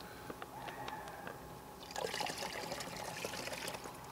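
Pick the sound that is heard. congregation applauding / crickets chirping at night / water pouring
water pouring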